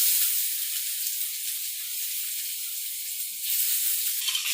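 Garlic sizzles in hot oil in a pan while moong dosa chutney is made, a steady bright hiss that swells again near the end, with no voices.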